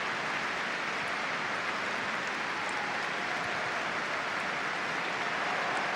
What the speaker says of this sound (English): This is for Liam Sweeney and John Alder, the applause.